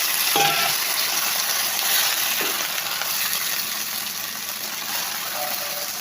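Potatoes frying in a pan with squash greens, a steady close sizzle and hiss running throughout with a couple of brief stirring clinks.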